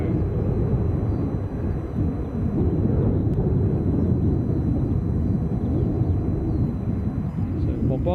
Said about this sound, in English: Bombardier Global